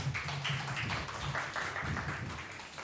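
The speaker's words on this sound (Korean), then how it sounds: "말씀 대언하실 전도사님을 환영의 박수로 맞도록 하겠습니다" A church congregation at a middle-school Sunday service claps to welcome a preacher, a soft, dense and steady wash of hand claps with a low background murmur throughout.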